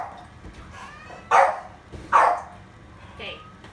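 A dog barks sharply while scuffling with a cat indoors, two loud close barks a second apart followed by a softer third yelp, over a low household background.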